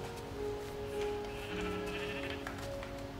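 Sheep bleating in Minecraft on Xbox 360, a few faint wavering bleats layered over game music and ambient noise, moderately distant.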